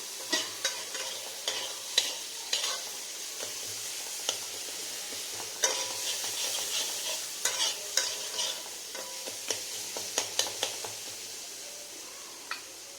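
Chili powder and spices frying in hot oil with onion for a rohu fish curry, a steady close sizzle broken by repeated sharp clicks and scrapes of a spoon stirring against the pan.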